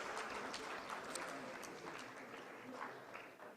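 Audience applause and cheering for a startup called on stage at a startup summit, a steady faint wash of clapping throughout, with some crowd voices underneath.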